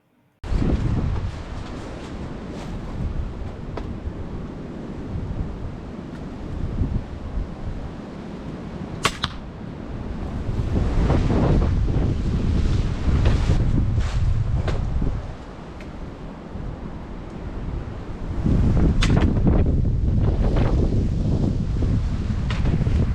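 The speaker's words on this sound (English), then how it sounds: "I had a crosswind of force 6 gusting to force 7" A strong crosswind of force 6 gusting to force 7 blows across an open field, roaring in continuous buffeting surges against the microphone with a few sharp knocks.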